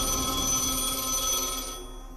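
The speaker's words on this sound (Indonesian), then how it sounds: "tiba-tiba telepon berdering." A telephone rings in a film scene, a bright electronic ring that sounds steadily and then cuts off near the end, with no one talking over it.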